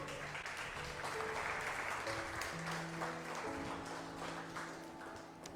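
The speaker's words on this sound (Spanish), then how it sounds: "Denle palmas al Señor." A church congregation claps together for the Lord during a Spanish-language sermon, a steady wash of many hands that holds level and then eases off toward the end.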